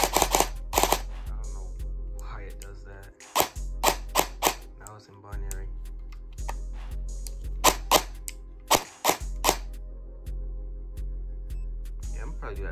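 Sharp, rapid bursts of shots from a T238 airsoft gun fitted with a mosfet, fired in binary mode, where each trigger pull and release both fire. The close, loud cracks come in quick pairs and short clusters separated by brief pauses.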